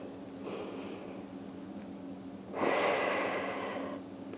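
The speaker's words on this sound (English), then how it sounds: "Inhale out, exhale in." A quiet, close breath during a core stabilization exercise, with a soft inhale followed by a longer, stronger exhale that swells and then fades, and no talking.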